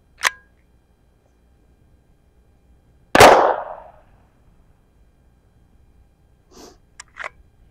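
A single gunshot rings out at a golf-ball body-armor target outdoors, one loud close crack with a trailing burst, followed a few seconds later by small faint clicks and knocks.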